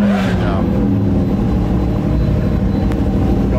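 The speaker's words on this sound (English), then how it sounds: "I guess we should start the engine, shouldn't we?" An older supercar's engine rumbles loudly and steadily close by for the whole stretch, with a voice talking over it.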